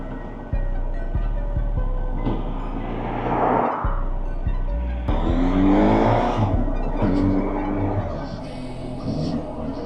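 Honda CB1000 Hornet motorcycle on a ride through the city, its engine droning loud and close while it revs up and down in swelling surges over steady wind rush.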